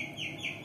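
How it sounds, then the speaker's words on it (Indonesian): A chicken clucks briefly and close by, a short continuous cluck over a steady wash of background noise. "ada ayam."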